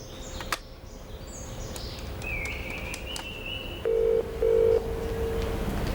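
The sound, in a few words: telephone being dialed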